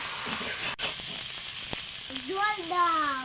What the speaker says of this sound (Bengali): আর রসুন আছে এতে আগে পেঁয়াজটা ভেজে নিয়েছি আমি এটা একটু ভেজে নেব